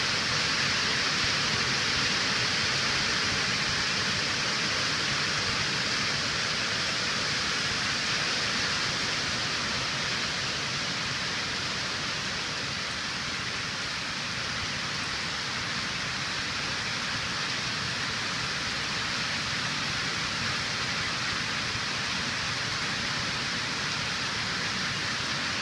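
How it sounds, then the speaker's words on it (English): Steady, dense rain drumming on a hot tin roof, a continuous close hiss with no pauses, filling the whole stretch evenly. "I love the sound of rain on a hot tin roof."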